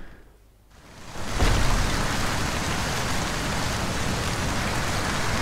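Rain in the video game Skyrim starts up after a quiet moment, swelling within a second into a steady, dense hiss of falling rain that continues evenly with no voices over it.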